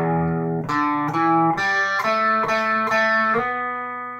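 Electric guitar with effects playing a solo, a run of evenly spaced picked notes stepping along in a steady rhythm, clear and close with no talking.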